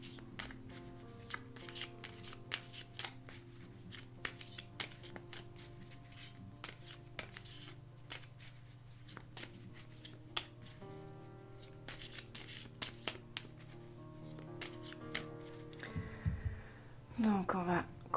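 An oracle deck of cards is shuffled by hand again and again, a soft, close riffling and rubbing that runs steadily throughout, with a louder handling rustle near the end.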